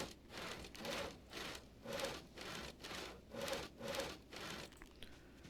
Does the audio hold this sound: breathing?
no